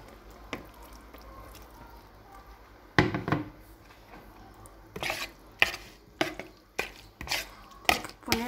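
Pasta gets stirred in a tray with yogurt, garlic and salt, making a run of soft, wet, sticky squelches and light scrapes, close by and quiet, arriving in uneven bursts after a calm start.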